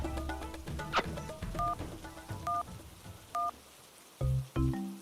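Telephone keypad tones ring out as a number is dialed, a series of short beeps in uneven rhythm, close and clear, over faint background noise with no talking.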